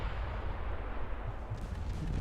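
Main battery guns of the USS Iowa firing in the naval game Ultimate Admiral: Dreadnoughts, a dense, continuous low rumble of heavy gunfire and blasts rolling without pause.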